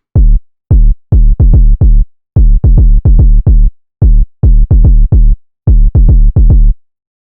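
Loud synth sub bass pattern for a gun bass: deep, clipped notes fire in quick rhythmic clusters of three or four with short pauses between, each cutting off sharply, with no voices over it.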